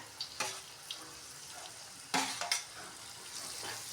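Chopped boiled egg whites stir-fried in an onion and coconut masala, a soft steady sizzle with clinking spoon-on-pan scrapes and a few sharper metallic knocks, close by and without talk.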